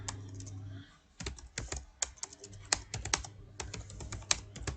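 Rapid, uneven keystrokes on a computer keyboard as Java code is typed, close and crisp, with short pauses between bursts over a low background hum.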